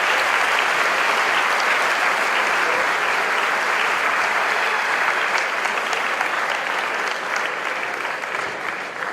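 A lecture audience claps in a dense, even burst of applause that holds steadily for about nine seconds before easing slightly at the end.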